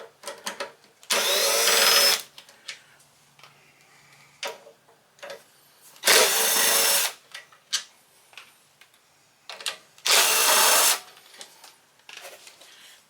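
A power tool with a 5/16 socket spins out three bolts on a Briggs and Stratton push mower carburetor, three loud whirring bursts about a second each, separated by quiet gaps with faint clicks and handling noises.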